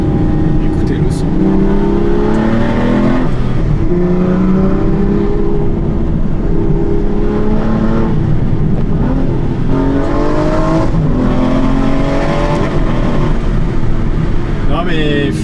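The V12 engine of an Aston Martin (DBS or V12 Vantage S) revs and pulls through gears while driving, with repeated rising sweeps of a loud sustained roar, and someone talks over it throughout.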